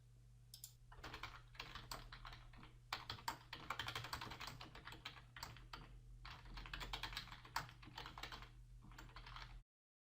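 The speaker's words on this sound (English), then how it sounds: "type some text into the text box" Fingers type text on a computer keyboard in steady bursts of close, crisp key clicks with short pauses between runs, alone with no talk.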